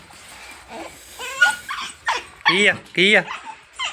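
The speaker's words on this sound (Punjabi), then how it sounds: "ਕੁੱਤਾ" A dog on a farm with chickens gives several short, high whimpers and yips in quick bursts, close by, while a person speaks a few words between them.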